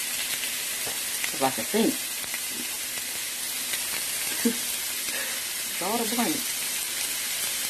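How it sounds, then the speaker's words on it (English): Ingredients for seafood gumbo sauté in a greasy pan with a roux already made, giving a continuous close sizzle and fry. Someone talks intermittently over it. "So I'm just kind of sauteing these up a little bit."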